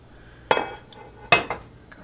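A heavy pot of beef bourguignon stew is opened after two hours in the oven. Two sharp metallic clanks of the lid, close and loud, ring out about a second apart against a quiet background.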